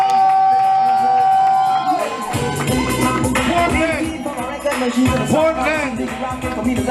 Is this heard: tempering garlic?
no